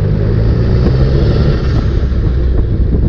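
Turbocharged Mitsubishi 3A92 three-cylinder engine in a Chinese dune buggy with a Borg K03 turbo, spooling up under load: a loud, continuous broadband roar with a steady low drone and no talking.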